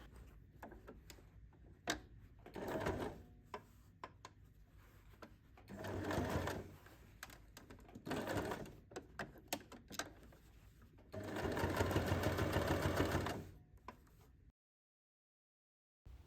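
A sewing machine top stitching a strap casing on a fanny pack, running in several separate bursts of rapid stitching with quiet pauses between them, the last burst the longest and loudest, with no voices.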